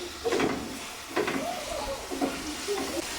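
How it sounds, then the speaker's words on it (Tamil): Green chilies and tomato fry on a medium flame in the base for a crab curry, a soft sizzle with a few stirring scrapes and bursts of hiss, close and fairly quiet. "ஒரு தக்காளி எல்லாம் போட்டு நல்லா கொஞ்சம் மீடியம் ஃப்ளேமில் நல்லா நம்ம ஃப்ரை பண்ணிக்கணும்"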